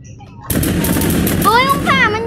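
Gunfire in the Roblox video game: a sudden sustained burst of rapid shots that starts after a short quiet lead-in. Whistling tones rise over it near the end, loud and close.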